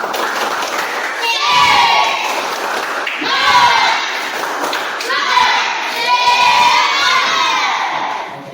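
Schoolchildren in a classroom perform a 'tepuk semangat' spirit chant, shouting loudly in unison in repeated rhythmic phrases with claps and thumps mixed in, filling the whole room.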